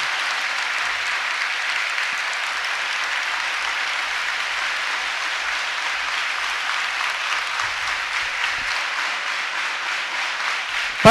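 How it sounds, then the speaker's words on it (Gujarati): At a devotional assembly, a crowd gives the science student Dobariya Dharmik a loud, sustained round of applause, a steady wash of clapping that lasts about eleven seconds. "ડોબરિયા ધાર્મિક પર જોરદાર તાળી પાડીના વિદ્યાર્થીને આપણે વધાવી લઈએ"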